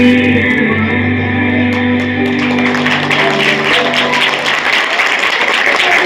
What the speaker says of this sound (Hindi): छोटी छोटी बहनों के लिए जोरदार तालियां।